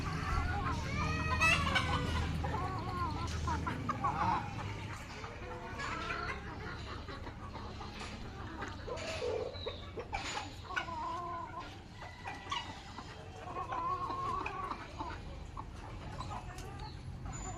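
Chickens let loose outdoors in the rain cluck and call intermittently at a distance, mixed with a few higher squawk-like cries and faint background murmur.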